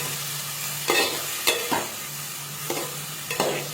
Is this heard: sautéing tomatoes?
yes